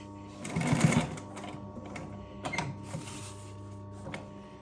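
A Singer 211U166 walking foot sewing machine with a clutch motor stitches in a short run of rapid mechanical chatter with a low motor hum underneath, then a few softer clicks and bumps as it slows, close and with no speech.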